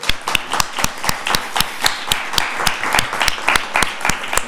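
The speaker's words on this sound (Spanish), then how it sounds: "damos un aplauso a Javier." A small audience gives a speaker a round of applause: sparse, distinct hand claps in an uneven rhythm, close and crisp, with no talking over them.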